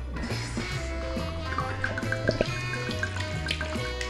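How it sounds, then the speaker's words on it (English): Red wine poured through a cloth to strain out cork particles, a soft, steady liquid trickle lasting the whole stretch, with music playing over it. "I need to pour this, the wine, through the cloth here so I catch all the little particles."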